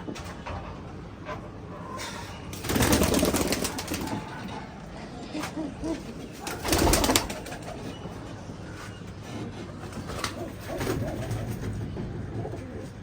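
Giribaj high-flying pigeons coo softly against a steady background hum, with two louder rustling bursts like flapping wings in between and faint talk.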